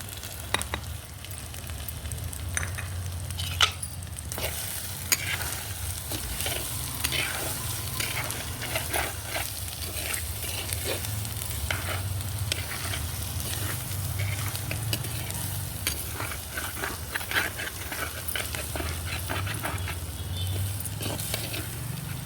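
Stuffed brinjal curry with salt, turmeric, chilli and coriander powder being stirred in a pan, a steady sizzle running throughout with frequent scraping and clinking of the spoon against the pan, close and fairly loud.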